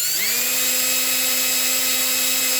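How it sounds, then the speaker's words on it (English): A power drill spins up quickly and then whines steadily at high speed, loud and close, during a check-up and greasing of a crawler machine, with no talking over it. "Throw it on the old drill."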